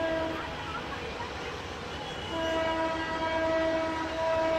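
An overcrowded passenger train in Bangladesh rumbles along steadily, with a sustained horn or whistle tone sounding through the second half of the clip.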